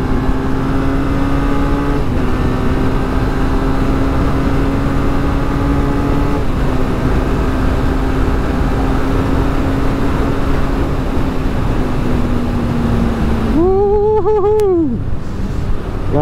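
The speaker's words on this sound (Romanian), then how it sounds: "dar sunetul motocicletei este..." Motorcycle engine running steadily and fairly loud with shifting engine tones, ending in a brief rising and falling whine.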